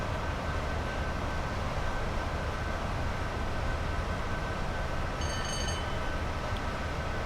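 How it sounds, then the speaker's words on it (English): Class 86 electric locomotive coasting down a 1.3% gradient toward Oxenholme on Shap, a steady broad rumble and hiss of the train running at speed without pause, with a brief faint high whine near the end. "This is one of the early, quite serious electric locomotives, capable of keeping up with the 100-mile-an-hour schedule."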